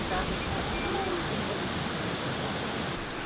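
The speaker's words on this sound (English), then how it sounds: "what do you think of this waterfall?" A large, tall waterfall in Pennsylvania roars in a steady, broad rushing wash of water heard from its base, with a faint voice briefly under the noise.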